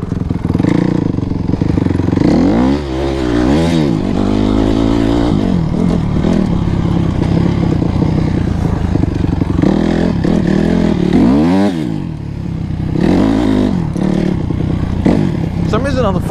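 A Honda CRF250R dirt bike engine drones loudly while being ridden, with repeated revving sweeps as it climbs through the gears, riding on a worn, balding rear tire over continuous close wind and rumble.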